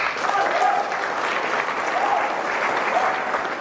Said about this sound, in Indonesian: Bapak Sunario, aplaus dulu untuk.